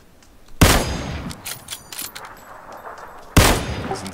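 Two sharp, loud gunshots ring out in PUBG, a battle royale shooter, about three seconds apart, each a sudden crack followed by a ringing tail, with faint clinks and game noise in between.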